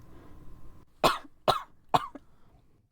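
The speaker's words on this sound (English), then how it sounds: "almost speed walk into the other side of the lobby as she coughs into her arm" A woman in the FNAF DayBreak video game coughs into her arm three times in quick, evenly spaced bursts, close and fairly loud, followed by a faint throat sound after a low electronic hum cuts out.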